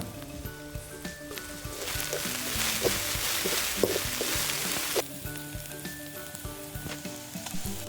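Onion masala with turmeric and cumin sizzles steadily in a pan for a fish podimas dish. The frying crackle swells in the middle, with a faint melodic music bed underneath and no speech.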